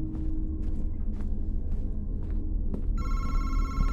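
A telephone bell rings in a horror video game, a bright trilling ring starting near the end and sounding loud and sustained over a low ambient rumble and faint knocks.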